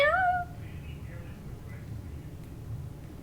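A person imitates a cat's meow with one short rising-falling vocal meow at the start, followed by quiet room noise.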